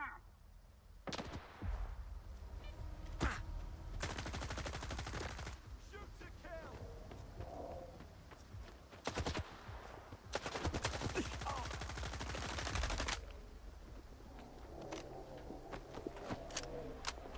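Gunfire in Stalker 2: single shots and long sustained bursts of rapid automatic fire, loud and close, with quieter stretches between them and faint voices at times.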